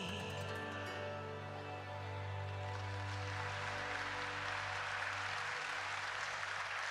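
Applause from a live audience at an outdoor show in Ollolai, starting behind sustained music and swelling into a broad, steady wash of clapping that fills the remaining seconds.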